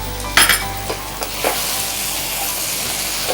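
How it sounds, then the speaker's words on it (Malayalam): Squid masala sautés over a high flame, with a constant sizzle and a few sharp clanks of a spoon stirring against the pan, close and fairly loud. "ഒരു ഹൈ ഫ്ലെയിമിൽ തന്നെയാണ് ഈ വഴറ്റൽ പ്രക്രിയയെല്ലാം ചെയ്യേണ്ടത്"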